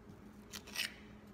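Two quick, close snips of scissors trimming a soft plastic Senko fishing lure, faint against a quiet background.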